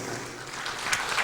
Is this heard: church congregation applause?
yes